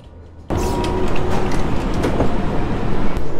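Ukrainian long-distance sleeper train rolling into Lviv station, a steady close rumble of the carriage with rail clatter and hiss beginning abruptly after a quiet half second, continuous and loud with no talk.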